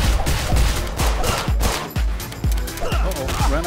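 Rapid bursts of gunfire from the video game The TakeOver crack out in a quick repeating rhythm, loud and close, with other game sounds mixed in.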